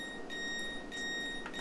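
BR Class 395 train door warning in a train simulator game, a quiet series of short electronic beeps repeating in bursts over a constant steady hum.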